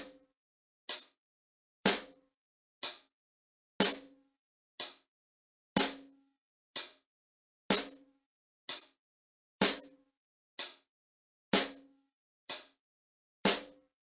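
Snare backbeat from a drum kit in a beginner drum lesson, struck on beats 2 and 4. Steady, evenly spaced sharp cracks, about one per second, with quick decays, close and loud, with no talking.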